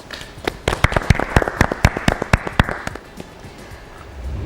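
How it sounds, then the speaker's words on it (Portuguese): Brief burst of applause from an audience at a forum on Mozambique's blue economy: sharp, scattered claps in a quick irregular rhythm that thin out and stop after about three seconds, leaving quiet room tone. "Uma salva de palmas"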